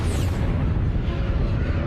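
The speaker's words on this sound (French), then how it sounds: "Une explosion de supernova est extrêmement puissante." A supernova explosion sound effect, a loud, dense roaring boom that rumbles steadily with deep low weight and no pauses.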